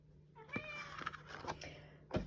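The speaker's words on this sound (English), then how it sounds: "You can probably hear my little cat in the background." A cat meows several times in short, tonal calls with rising and falling pitch, fairly near, with a louder burst at the end.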